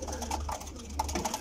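Soft, low cooing of pigeons close by, several short murmuring calls in quick succession over a steady low hum.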